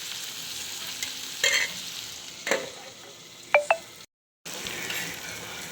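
Tomatoes and onions sautéing in a pan give a continuous close sizzle, broken by a few sharp clinks and scrapes of a stirring utensil, with a brief drop to silence near the end.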